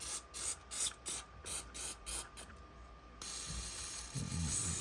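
Gunk Blaster cleaner is sprayed onto the slide of a Smith & Wesson M&P 2.0 pistol in a string of short, close hissing bursts that give way to a longer continuous spray.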